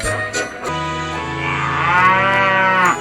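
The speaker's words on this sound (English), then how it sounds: "Stupid bloody cow. Fancy letting a thing like that out of its paddock." A cow lets out a long, loud, drawn-out moo, the call rising in pitch and holding for a couple of seconds, up close with a short sound before it.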